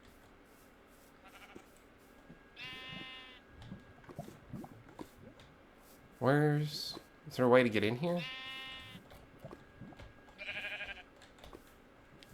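Sheep in the Minecraft video game bleat in several short separate calls, a couple of them loud and close, among soft game noises while a person talks intermittently.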